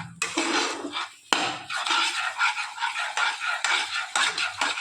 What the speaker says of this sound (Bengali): তো এইভাবে নাড়িয়ে চাড়িয়ে এবার গ্যাসটা বন্ধ করে দেব